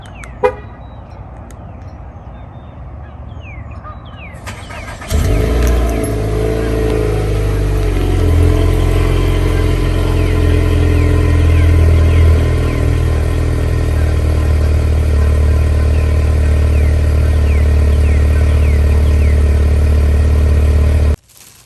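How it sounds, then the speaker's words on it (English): A Nissan Altima engine cold-starts early in the morning: a brief starter crank, then a steady loud idle that runs on evenly until it cuts off at the end. "Early morning cold start on the Altima."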